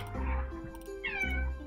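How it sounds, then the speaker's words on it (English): Tabby cat meowing in a video game, two clear drawn-out meows with a soft tonal hum running beneath them, close and distinct, with no talk. "Oh, look who it is. It's a tabby."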